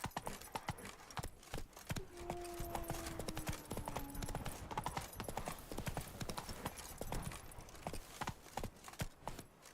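Roach the horse gallops in The Witcher 3 video game, with steady clip-clop hoofbeats running throughout, a brief tonal whinny early on, and faint speech in the background.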